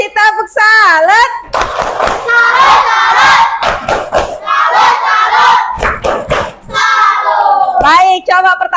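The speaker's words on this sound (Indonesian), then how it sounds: "Oke, kasih tepuk salut" Classroom children loudly perform a 'tepuk salut' clapping chant together, their high, sing-song voices shouting in rhythm over bursts of hand claps and thumps.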